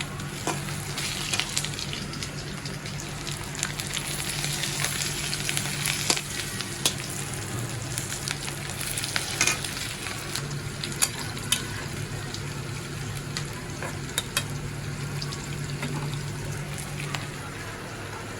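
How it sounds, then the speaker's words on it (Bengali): French fries deep-frying in hot oil for homemade burgers, a dense continuous crackling sizzle with occasional spoon clinks and stirring across the whole stretch. "এই যে আমাদের ফ্রেঞ্চ ফ্রাই এইটা করতেছি"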